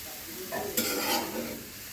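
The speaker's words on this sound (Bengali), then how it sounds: "তো এটা একটু ভাজি করে নিই" Vegetables frying in a pan, a steady close sizzle with a burst of stirring and scraping midway, no voices over it.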